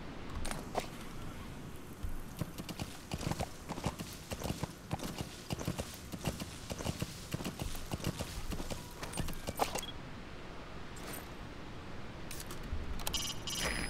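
Horse hooves clip-clop in Metal Gear Solid V: The Phantom Pain, a steady rhythmic trot of hoofbeats heard close up and fairly quiet, with no talking over it.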